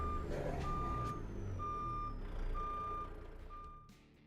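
Truck backup beeper sounding at night, five evenly spaced tonal beeps over a low rumbling engine, fairly distant and moderate in level, fading toward the end.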